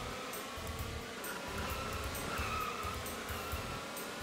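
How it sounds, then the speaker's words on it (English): Racing cars and monster trucks in the Choro-Q HG video game roar steadily without a break, with squealing tires and skids over a dense, continuous engine drone and no talking. "It's just monster trucks flying everywhere."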